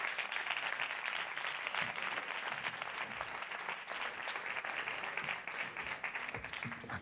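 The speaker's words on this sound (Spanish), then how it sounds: "Por favor, un fuerte aplauso para ella otra vez." An audience at a closing gala of a short film festival gives sustained, even applause for the councillor of culture, a dense wash of many hands clapping from a moderate distance.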